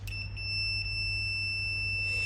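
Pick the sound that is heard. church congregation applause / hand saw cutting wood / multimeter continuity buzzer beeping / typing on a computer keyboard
multimeter continuity buzzer beeping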